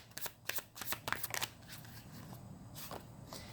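Tarot cards shuffled by hand, a quick run of close, crisp riffles and flicks in the first second and a half, then softer handling of the deck with a few final snaps, no talking.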